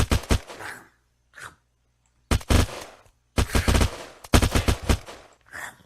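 Full-auto gun firing in the video game Unturned: several rapid bursts of loud, close gunfire, short and long, separated by brief silences.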